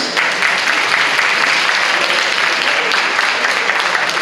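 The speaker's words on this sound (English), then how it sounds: "Please give them a warm round of applause." Warm, steady applause from an audience at an alumni event, a dense even wash of clapping that holds at one level from start to finish with no voices over it.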